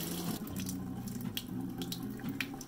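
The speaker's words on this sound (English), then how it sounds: "So I'm gonna fill these up with some water" Tap water runs steadily into containers being filled for planting seeds, a continuous rushing splash with faint higher trickles, close and moderately loud with no talking.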